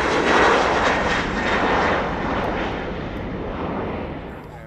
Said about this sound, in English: There we've got the Embraer 190, and that's KLM's Amsterdam to Bordeaux flight.